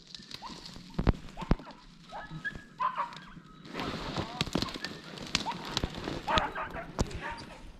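Beagles barking on a rabbit hunt in tough conditions outdoors: scattered yips and barks with some whimpering, moderately near, and a voice heard at times among them.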